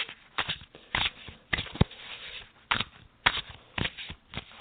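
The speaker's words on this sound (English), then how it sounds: "So let's do a little shuffle here." Tarot cards are shuffled in quick, soft riffling bursts, about nine short flutters spaced irregularly, close and quiet with no talking.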